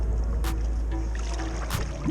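Werner Surge fiberglass kayak paddle on the icy Ottawa River in winter, two distinct strokes pulling through the water over steady wind and water noise, close and fairly loud.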